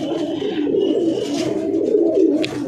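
Tournament pigeons cooing in soft, continuous low burbling calls close by, with several birds overlapping.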